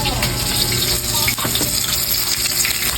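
Chicken pieces frying in a pan give off a steady, loud sizzle and crackle that fills the whole stretch without a break, with faint clinks and stirring noises mixed in.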